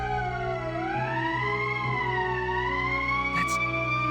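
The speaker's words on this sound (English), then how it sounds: "That's the emergency siren." A wailing emergency siren in Valkyria Chronicles rises and falls in a slow, loud, continuous tone, with a brief burst of noise near the end.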